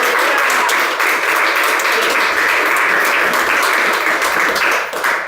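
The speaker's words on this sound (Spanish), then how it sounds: "Dale un aplauso al Señor." A church congregation breaks into loud, sustained applause, dense clapping filling the room for several seconds without a break and tapering slightly at the end.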